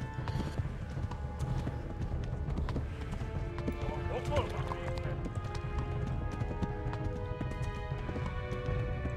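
Horse hooves galloping in Kingdom Come: Deliverance, a fast, steady clip-clop running throughout with an occasional whinny, while voices talk over it.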